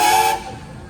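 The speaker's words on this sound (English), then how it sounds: "She going to blow a whistle for you." A steam whistle at a farmers and threshermen's jubilee parade gives one short, loud, bright blast that cuts off abruptly and leaves a fading low rumble.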